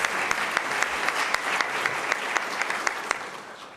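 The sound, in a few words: audience applause for Deputy Secretary Anthony Miller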